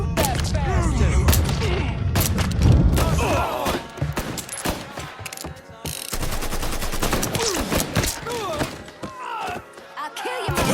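Rapid bursts of gunfire from the video game Mafia 3 crack out in repeated volleys alongside thuds and mechanical clatter, loud and dense, with game dialogue shouted over the shooting.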